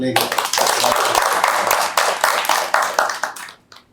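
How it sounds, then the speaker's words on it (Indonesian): Applause from a studio audience on a Balinese talk show, a dense burst of clapping at close range that carries on for several seconds before trailing off, with some voices mixed in. "Aplaus demun re"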